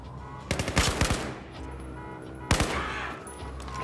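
Battlefield 4 gunfire: a rapid machine-gun burst of several sharp cracks, a lull, then a second shorter volley, loud and close with a faint ambient background.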